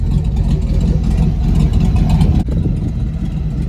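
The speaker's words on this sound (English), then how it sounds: "Initially it was running with just the Y pipe dumped, so basically no mufflers on it, and I'll put a clip into the idle of that" An LS-swapped Ford Bronco idles with its Y pipe dumped and no mufflers, giving a loud, steady, deep exhaust burble that stays even throughout.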